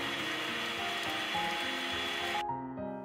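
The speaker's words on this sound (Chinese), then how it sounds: "把炒至焦香干爽的黑米放入破壁机， 开启电源，细腻研磨，让刀片高速旋转30秒" A high-speed blender grinds roasted black rice into powder with a dense, loud whirring roar that holds steady and then cuts off abruptly near the end.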